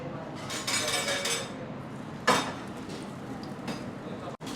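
Garlic-stuffed pomfret, coated in rice flour and semolina, slipping into hot frying oil, giving a steady close sizzle with a brief louder crackle partway through.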